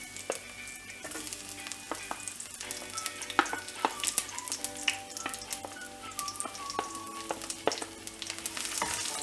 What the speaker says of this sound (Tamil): பூண்டையும் ஃப்ரை பண்ணிடலாம்.